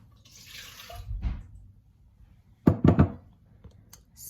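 Water poured into a cooking pot for apple sauce, with apples, carrots and beets being prepared in a home kitchen; a soft splash near the start, then a louder cluster of three pouring and clattering bursts near the end, with no talk.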